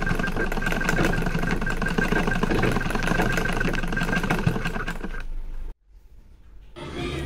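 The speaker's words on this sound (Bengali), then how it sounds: "তো এবার এটাকেও ভালো করে আমি সেলাই করে ডবল সেলাই দিয়ে দেবো, যাতে সুন্দর এই লেসটা বসে যায়।" Sewing machine stitching lace onto a kurti, a loud steady rapid mechanical whir running for about five seconds, briefly stopping, then starting again.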